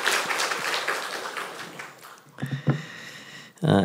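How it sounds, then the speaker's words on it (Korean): A church congregation at a Sunday service claps for the choir: dense, sustained applause for about two seconds that thins and fades, followed by a few brief, separate sounds. "한번 격려와 감사 박수 한번 해주시기 바랍니다"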